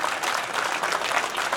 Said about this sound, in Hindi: और जोर से बजाइए ताली